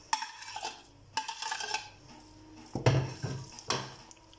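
A spoon stirs chicken haleem in a pot, making several distinct scraping clanks spaced a second or so apart, close and fairly quiet with no talk.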